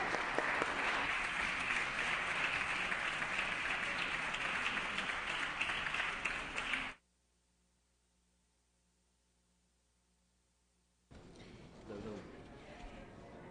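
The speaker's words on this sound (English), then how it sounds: "let's have one final round of applause and thank all of our Assembly Fellows for their work" Members of a legislative assembly chamber applaud in a dense, steady round of clapping for about seven seconds, then near silence, followed by quieter room sound with a voice.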